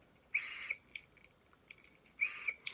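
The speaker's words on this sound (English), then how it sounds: "so whistles." A small party favor whistle is blown twice, each a short thin toot, sounding faint but clear against a quiet room with no talking.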